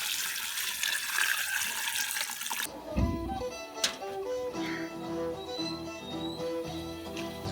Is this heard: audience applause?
no